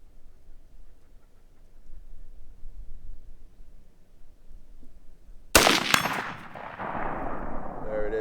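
A single loud gunshot from a Colt A2 Government carbine clone rings out after a stretch of low background hiss, followed by a decaying echo and ringing tail.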